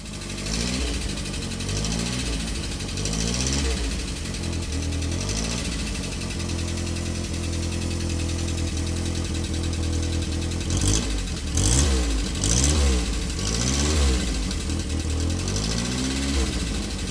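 A 1938 Fiat Topolino (Fiat 500A) engine idles with a steady low putter, then revs up and down in repeated surges, close and fairly loud, with no talk.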